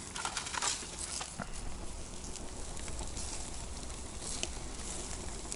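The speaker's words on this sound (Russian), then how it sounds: "шашлыки жарятся" Shashlik meat grills over a hornbeam wood fire outdoors, giving a soft, steady sizzle with scattered faint pops and crackles at low volume.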